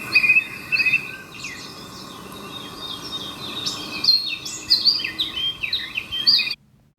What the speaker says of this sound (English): just listen to how clear and beautiful these bird sounds are from this speaker